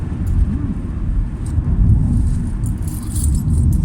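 A Peugeot 406 Coupe with the 2.2 HDi diesel engine pulls hard from around 30–40 mph, its steady low engine drone and road rumble rising in a continuous, fairly loud wash inside the cabin, with faint rattles above.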